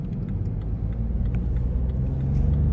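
A diesel car engine with a rev limiter around 4,005 rpm pulls up through its revs, a loud, close, steady low rumble that builds slightly toward the end, with no voices over it.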